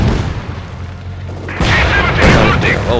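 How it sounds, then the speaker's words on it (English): Mortar fire in the Company of Heroes 2 video game, with heavy booms and thuds rolling over a dense, noisy battlefield background, loud and sustained. "where's that mortar fire coming from?"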